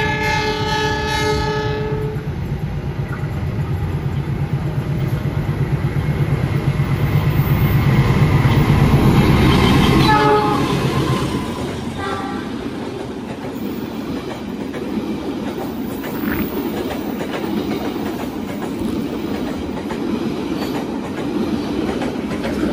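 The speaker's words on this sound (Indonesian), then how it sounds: "kereta kalau melintas langsung di sini tuh 60 km per jam." The Pasundan economy train speeds past at about 60 km/h, opening with a sustained loud horn blast, then a thundering roar of wheels and clattering cars that fades into steady rumbling.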